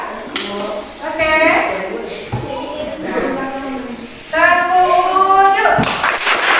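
A group of children in a classroom clapping hands in a rhythmic patterned clap, mixed with chanting voices and an adult speaking over it.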